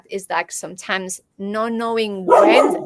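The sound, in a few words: dog barking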